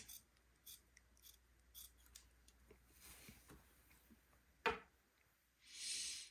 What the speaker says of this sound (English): we're going to cut out each of these 8 eyeball shapes from inside or the fold side of each of these scallops